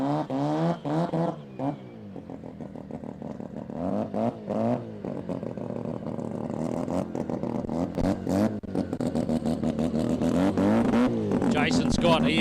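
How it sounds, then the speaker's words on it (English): Rotary-powered Mazda RX2 drag car with a turbocharged billet 13B engine doing a big burnout at a drag strip, a loud buzzing rotary roar that rises and revs hard throughout, with a commentator talking over it. "a big burnout in the rotary powered RX2"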